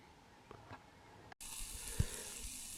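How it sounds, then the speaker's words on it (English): Quiet outdoor sounds with a couple of soft clunks, then a steady sizzle of food frying in a pan starts up with a thump. "I'm just frying myself up some breakfast"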